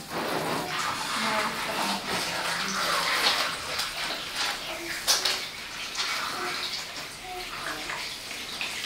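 Running water splashes continuously, as if poured or flowing from a tap, with occasional clinks and faint voices in the background.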